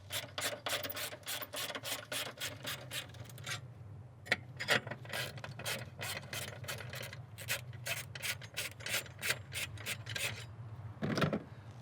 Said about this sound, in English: Next, we will loosen the two 10mm flange nuts.